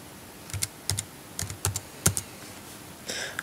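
A password is typed on a computer keyboard in short bursts of crisp key clicks, close and quiet, with brief pauses between groups of keystrokes and no talking.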